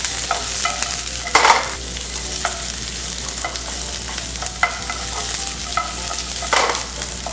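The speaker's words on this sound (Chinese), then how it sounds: "先拌炒一下" Onions stir-fry in a wok with leftover oil, a steady close sizzle broken by louder scraping stirs of the spatula every second or so.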